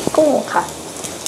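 Shrimp are stir-fried in a wok, a close sizzle with spatula scrapes, and a brief voice is heard over the frying near the start.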